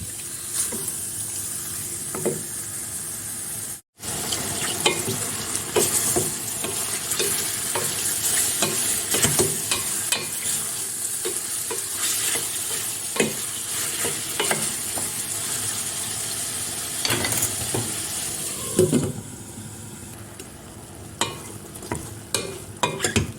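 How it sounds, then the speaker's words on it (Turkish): Chicken sizzles and fries steadily in hot vegetable oil for chicken sauté while a utensil stirs and scrapes through it, close up with no talking. "Ara ara karıştırarak kavuralım."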